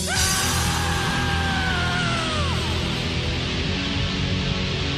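A sudden, drawn-out high scream bursts out early in a black metal song, sliding downward over about two seconds before fading into a dense, loud wall of distorted guitars and drums that continues alone.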